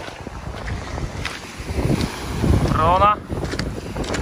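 Strong wind buffets the microphone at a beach on Rhodes in Greece, a steady broadband rush with gusts swelling louder near the end, while a person talks briefly underneath.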